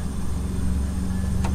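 Pressurized air hisses steadily out of an engine during a leak-down pressure test, a close, continuous broadband rush over a low hum, with no talking.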